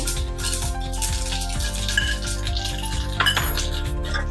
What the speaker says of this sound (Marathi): तूप छान तापलं आपलं, हे बघा त्याच्यामध्ये आपण ही मोहरी टाकली, त्याच्यात आपलं जिरे आहे ना ते टाकून घेऊ